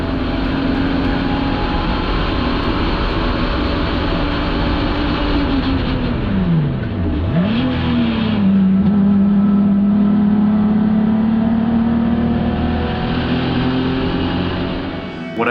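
A BMW E46 endurance race car drives hard on a track, its engine droning loudly and steadily with a brief dip in pitch as it shifts or lifts before pulling strongly again, close and continuous without speech.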